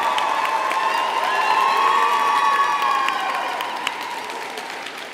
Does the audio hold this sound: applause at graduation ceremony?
yes